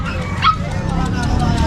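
Small puppies, including long-coat chihuahuas, yip and bark at a busy outdoor pet market, their high excited calls overlapping with a person talking nearby over crowd noise.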